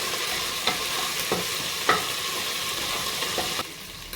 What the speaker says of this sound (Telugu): అల్లం వెల్లుల్లి పేస్ట్ కొంచెం వేగాక బాగా ఫ్రైడ్ ఆనియన్ అయితేనే బాగుంటుంది